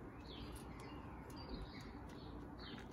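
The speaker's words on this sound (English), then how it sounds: "Listen to those birds." Birds chirp and tweet in short calls at a distance, heard over a steady low rumble of background traffic.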